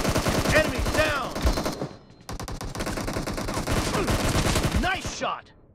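Rapid automatic gunfire from a team deathmatch round of the mobile shooter BGMI, dense bursts of shots running almost continuously with a brief pause midway, loud and close, with faint voice sounds mixed in.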